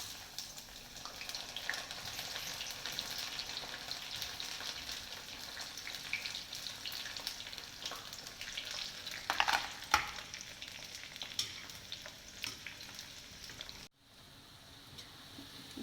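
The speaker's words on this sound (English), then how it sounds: "So next I am adding the cauliflower here." Cauliflower for a vegetable biryani fries in oil, giving a continuous crackling sizzle that swells with a few sharper pops before cutting off abruptly near the end, then resuming more quietly; no voices.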